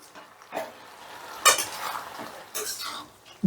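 Fried lentil dumplings (bori) being stirred into a bottle gourd and poppy-seed curry in a pan, with a few scattered utensil clinks and scrapes over a soft background.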